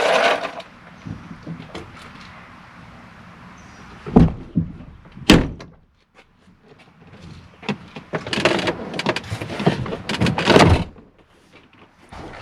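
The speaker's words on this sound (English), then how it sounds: "close this door a little bit" Door of a 2009 Chevrolet Silverado pushed shut during an interior door handle install, giving two sharp thumps close by, then a longer stretch of rattling, clunking handling noise.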